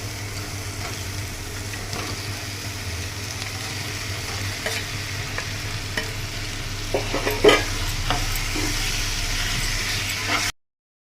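Chicken and spices stirred in a frying pan for a Kerala-style coconut milk curry, a soft continuous sizzle with intermittent scraping and clinks of the spoon against the pan.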